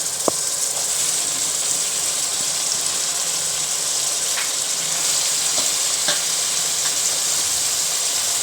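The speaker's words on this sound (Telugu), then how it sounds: "మొత్తం కలిసేలా తిప్పుతూ ఉండాలి" Country chicken curry fries loudly over a full flame in a continuous hissing sizzle. Occasional stirring clicks of a spoon against the pan rise above it, with no talking.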